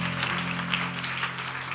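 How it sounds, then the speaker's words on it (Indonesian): A church congregation claps during a sermon, a continuous wash of applause heard over a steady low hum throughout. "Kenapa gak tepuk tangannya mantap kali?"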